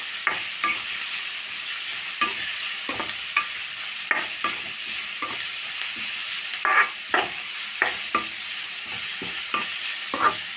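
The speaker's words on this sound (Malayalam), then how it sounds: "ചെറിയ കഷ്ണങ്ങളാക്കിയിട്ട് എല്ലാം കൂടി നേരിയതായിട്ടൊന്ന് ഫ്രൈ ആക്കണം." Small coconut pieces fry lightly in a pan, giving a steady soft sizzle broken by regular scraping stirs from a spoon, close up and with no voices.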